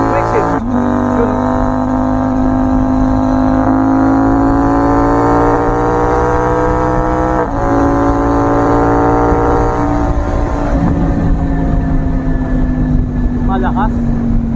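A CFMoto 800MT touring motorcycle with a quick shifter accelerating hard through the gears, engine note rising steadily then dropping sharply at each quick upshift, loud and close, with wind noise throughout.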